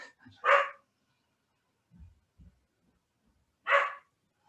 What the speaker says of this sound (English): I apologise for my dog's barking.